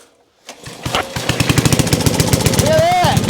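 A PowerChief portable backup generator's small engine catches after a pull and settles into a loud, rapid, even chugging idle, close up, with a brief voice over it.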